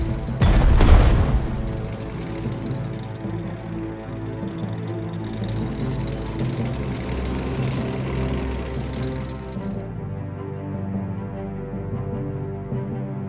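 Gunfire and explosions in the WWII strategy game Strategic Mind: Blitzkrieg: a loud, close boom bursts at the start, followed by a sustained rumbling, grinding roar of battle and engines that fades slowly.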